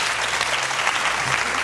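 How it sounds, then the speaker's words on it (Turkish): A game-show studio audience applauds the teams on the Turkish quiz show Piramit, a steady, dense wash of clapping that holds at full strength from start to end with no voices over it. "Haydi onlara kocaman bir alkış"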